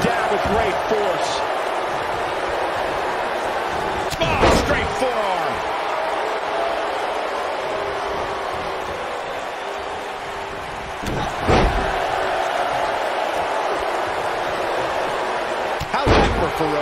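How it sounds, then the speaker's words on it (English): In a WWE 2K19 women's wrestling match, a wrestler is slammed hard onto the mat, giving several heavy, booming thuds spaced several seconds apart over a continuous arena crowd murmur and game commentary. "She slams her down with great force."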